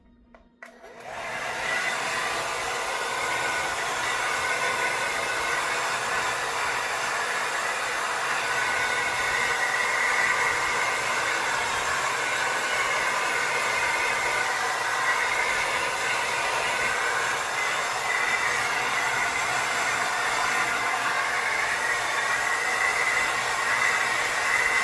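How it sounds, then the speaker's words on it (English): A household hair dryer runs steadily on its medium setting with cool air, a loud, close, continuous whooshing roar that starts within the first second and holds unbroken throughout, with no voices. "This is my house dryer."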